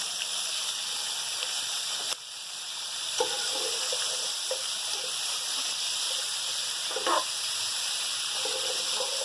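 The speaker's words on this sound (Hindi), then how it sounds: "हम एक एक करके ये हम अपनी तमाम मिर्चें डाल देंगे इसमें।" Green chillies fry in a pan with cumin and curry leaves, producing a steady, close hiss of sizzling oil with occasional brief clatters from stirring.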